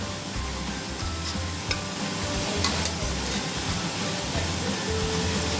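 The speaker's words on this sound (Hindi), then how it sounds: "अब ऐसे ही पलट पलट के तलते रहेंगे।" Samosas deep-fry in a pan of hot oil as a constant, dense bubbling sizzle, with a couple of faint clicks as they are turned over; close and continuous, with no talk.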